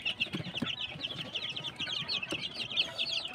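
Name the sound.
native chickens clucking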